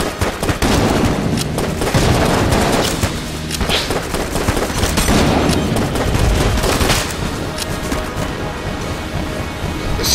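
Dense, continuous gunfire from many weapons in the Enter the Gungeon game, rapid overlapping shots and bursts with occasional booms, loud and close throughout with no talk.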